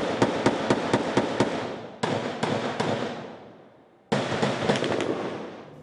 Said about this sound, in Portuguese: Os policiais do batalhão de choque foram recebidos com rajadas de fuzil no Complexo do Alemão.